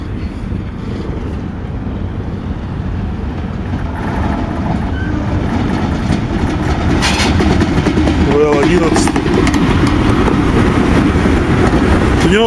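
A VL11 electric locomotive hauling a train passes close by with a loud, steady rumble and rattle of wheels that builds over several seconds, buffeted by wind noise as people talk nearby.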